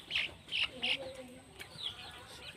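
Farm chickens cluck nearby in a few short, bright bursts, followed by softer chirps against a quiet, low background murmur.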